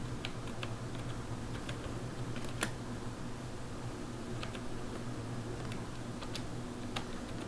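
Someone types a search on a computer keyboard: sparse, faint key clicks in an irregular rhythm over a steady low fan hum, with no speech.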